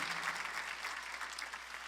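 A church congregation at a Korean Sunday worship service clapping together, a brisk, continuous patter of many hands, fairly loud and even throughout, with no speech on top.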